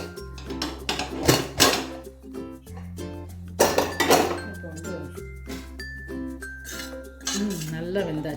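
The metal lid comes off a pressure cooker of vermicelli payasam with sharp clinks and clanks of metal on metal, close and fairly loud, in several separate knocks and rattles. Someone talks alongside.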